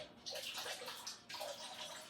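Blue ceramic glaze poured over a plate, a soft, close liquid splashing and trickling in two short bursts with a brief break between them.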